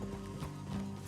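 Horses in Red Dead Redemption 2 give a short whinny over soft hoof clopping, heard close and brief at moderate volume.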